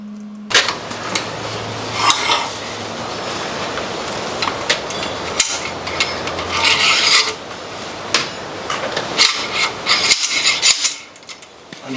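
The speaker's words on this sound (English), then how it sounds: "Don't fret, I'm going to grind it." Grinding something down by hand, repeated rasping, scraping strokes in uneven bursts, close and fairly loud, with short pauses between passes.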